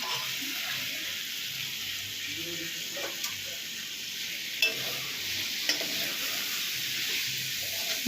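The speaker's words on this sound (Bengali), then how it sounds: "ভেজে রাখা আলুগুলো এখন মশলার সাথে দেওয়া হবে" Fried potatoes are stirred into tomato masala for a Bengali katla fish curry, a steady soft sizzle under occasional spoon scrapes and clicks against the pan, close and continuous with no talking.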